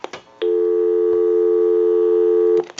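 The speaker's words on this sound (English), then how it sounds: "Give you some dial tone." Steady dial tone from an ITT 554 rotary wall telephone under repair, a clean sustained hum lasting about two seconds, bracketed by short clicks and handset handling noises.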